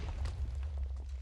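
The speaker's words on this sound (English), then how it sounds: "There's, like, explosions everywhere." Explosions go off in the Minecraft video game, a steady low rumble with scattered bursts and pops layered over it throughout, loud and continuous.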